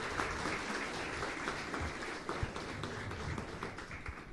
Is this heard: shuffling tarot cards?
no